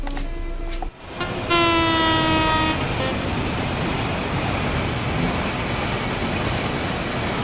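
A Class 66 diesel freight locomotive on a West Coast freight run in Train Sim World 5 gives a few brief horn tones, then settles into a loud, steady engine rumble and rail roar that continues alone.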